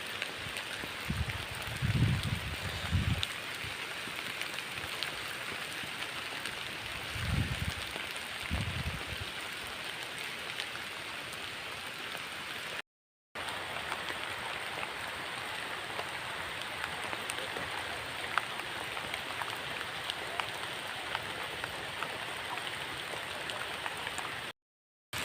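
Rain falls steadily beneath mahua trees in an outdoor rural setting, a continuous broad hiss with a few low thumps early on and a brief dropout midway.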